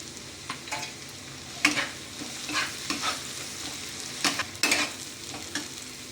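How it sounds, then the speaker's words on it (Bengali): Chopped tomatoes sizzle in a pan with softened onions, a continuous close fry marked by several sharp stirring scrapes and spatters spread across the few seconds. "এবার এখানে আমি টমেটো কুচিনো দিয়ে দিলাম।"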